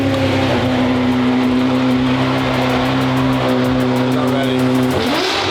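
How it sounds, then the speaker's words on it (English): A Ferrari engine runs with a steady, loud low drone, then its pitch briefly rises near the end, while people talk over it. "Let me see if the Ferrari will start."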